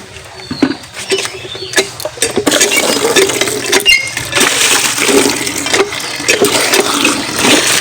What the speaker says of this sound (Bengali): আজকে এই জায়গাটাতে ভালো করে জল দিতে হবে